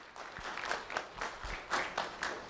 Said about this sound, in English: Round of applause for Jamel Fort.